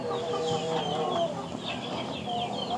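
Mother hens cluck steadily in a backyard semi-free-range chicken coop, several birds close by and overlapping in a continuous, busy chorus of short clucks and murmurs.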